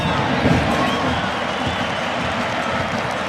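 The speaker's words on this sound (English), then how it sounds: "the crowd applauding Boyd Ogwanu over there" A football stadium crowd at a Real Salt Lake versus Inter Milan match keeps up a broad, steady wash of applause and murmur from a distance.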